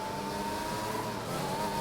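Formula 1 race car engine in an F1 game at the Japan circuit, a short burst of high revving whine with shifting pitch, loud and close, no voices.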